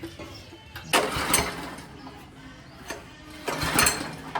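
A power weeder's engine being started in an eggplant field: repeated pull-start bursts of mechanical whirring, moderately close, with quieter rattling gaps between attempts.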